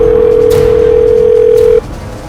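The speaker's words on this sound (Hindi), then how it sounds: "रिंग जा रही।" A loud, steady telephone ringback tone on an outgoing call drones continuously close up for nearly two seconds, then cuts off abruptly, leaving a quieter line hiss behind.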